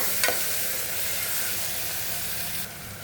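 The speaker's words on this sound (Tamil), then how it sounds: "சேர்த்துட்டு ஒரு ஒரு முறை அப்படியே நல்லா கலந்து விட்டுக்கோங்க" Country chicken curry with turmeric and curry leaves being stirred in a pan, a steady hissing sizzle with one early scrape of the spoon, continuous and fairly close, and no talking.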